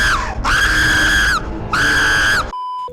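A person screams loudly while playing a video game, two long sustained high-pitched shrieks in a row with a brief break between, cut off abruptly near the end.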